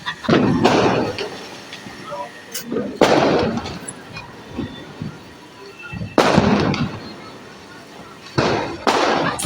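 Firecrackers burst outdoors in four loud, sharp blasts spaced a few seconds apart, each with a short rumbling tail, while people talk in between.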